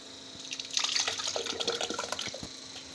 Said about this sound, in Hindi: मैं दही जूसर जग में डाल लूँ।